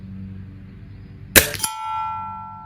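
An air rifle pellet strikes a metal plate target at 25 yards, one sharp clang that then rings out as a sustained metallic tone, following a quiet, low background.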